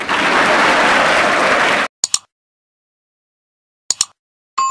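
Audience applause at a Madhya Pradesh educational talk on arts careers: a loud burst of clapping for about two seconds that cuts off abruptly, followed by a few brief sharp knocks and a short tonal sound near the end.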